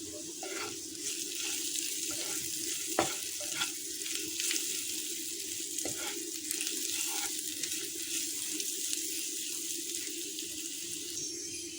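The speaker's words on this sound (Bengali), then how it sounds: "ভালো করে ভেজে নেব" Spices and small shrimp pieces frying in a pan for a Bengali bottle-gourd-peel bharta, a steady hissing sizzle held at an even level throughout, with a few faint clicks on top.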